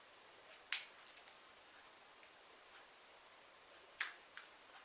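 Scissors snip through a balloon to cut it into pieces: a few faint, sharp clicks, quiet and close, separated by long stretches of near silence.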